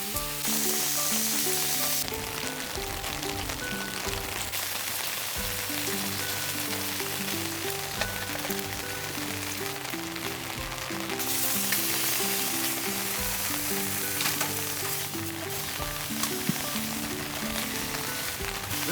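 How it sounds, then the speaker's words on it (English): Rain patters steadily on a $100K electric SUV, a dense, even hiss that lasts throughout, with faint tonal sounds in the background and no talking. "It's raining right now."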